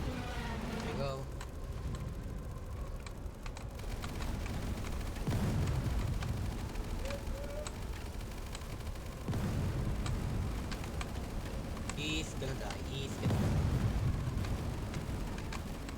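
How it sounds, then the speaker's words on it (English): Repeated explosions burst in Tower Defense X, heavy booms every few seconds over a busy game soundscape, with a voice talking over the action. "This is a lot of explosion."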